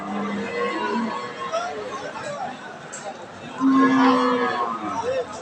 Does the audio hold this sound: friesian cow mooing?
yes